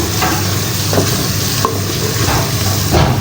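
Spices (red chilli, turmeric, salt and cumin) fry with onion in a pan for masoor dal, a constant loud sizzle close by, with a spoon scraping and stirring at intervals.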